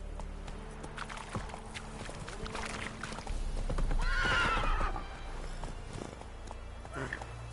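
Roach, the horse in The Witcher 3 video game, moving at speed: rhythmic hoof clip-clops close by, with a loud whinny partway through and the hoofbeats carrying on afterward.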